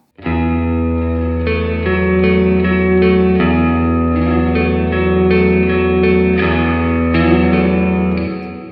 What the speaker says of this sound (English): I love testing reverbs